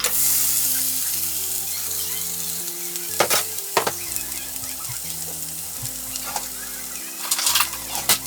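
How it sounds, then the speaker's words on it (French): Vegetables for a spicy Mexican salsa, with sugar and lime juice, cook gently over low heat. A soft, continuous sizzle runs under quiet background music, with a few sharp spoon-stirring scrapes and clinks. "On laisse ça à feu doux, remuer tranquillement."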